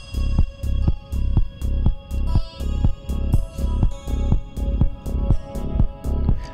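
Looping electronic video game music with a steady pulsing beat and short synthetic bot beeps landing in time at different speeds, loud and continuous with no talking.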